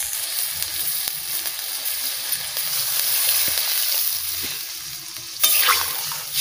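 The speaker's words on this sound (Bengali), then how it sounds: "তারপরে আমি জল দিচ্ছি" Vegetables frying in a pan for a Bengali niramish shak bhaji give off a steady, loud sizzle with occasional stirring scrapes, and a fresh burst of hissing comes near the end as water is poured in.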